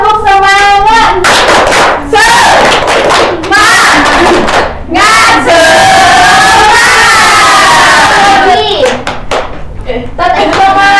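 A primary-school class does a rhythmic spirit clap: loud, close bursts of group hand clapping alternate with children and a teacher chanting together, the voices dominating between the clap patterns over about eleven seconds.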